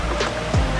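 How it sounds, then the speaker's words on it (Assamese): Water from a shallow stream rushing and splashing as someone wades through it on a river-crossing path near the Kopili picnic spot, Rani, Guwahati; a steady, close wash of water lasting under a second. "নিজৰাৰ মাজে মাজে মই এতিয়া আহি আছোঁ"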